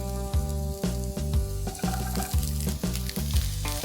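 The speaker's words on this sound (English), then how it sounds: "Quickly stir fry that with the capsicum." Green chilli and chunky green capsicum sizzle and crackle in a hot pan, tossed in a steady rhythm of repeated scrapes and clangs, close and fairly loud.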